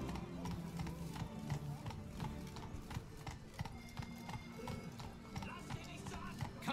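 Horse hooves clip-clopping along town streets in the video game The Witcher 3: Wild Hunt, Blood and Wine expansion, a steady, close walking rhythm of hoof taps over ambient background, with a voice talking faintly at times.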